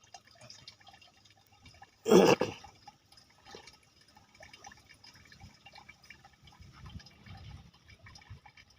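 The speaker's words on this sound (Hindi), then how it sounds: "डालो इसमें पानी" Water is poured into a container in one short splashing burst, fairly close, over a quiet room with faint background noise before and after.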